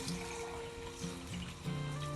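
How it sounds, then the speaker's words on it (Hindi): Water poured from a glass into a cooking pot of rice in a home kitchen, a steady close trickle and splash lasting a couple of seconds with small surges in flow. "पानी डालूँगी।"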